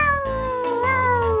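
A cat meows in one long, drawn-out call that slides slowly downward in pitch, loud and close with no other sound around it.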